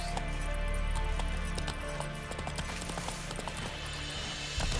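Galloping horse in The Witcher 3, with rapid, repeated hoofbeats in a driving rhythm, fairly loud and close over game ambience, picking up again in a burst at the end.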